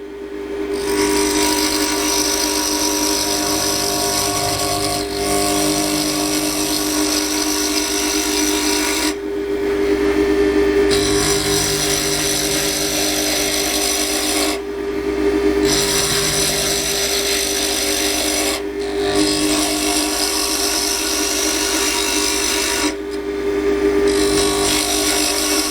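A wood lathe turns a pen blank while very small, light cuts are taken, producing a steady, loud motor whine with a constant tonal hum and a hissing scrape that pauses briefly several times, no speech.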